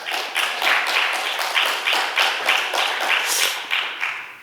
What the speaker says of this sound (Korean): 박수 받기는 또 처음이에요.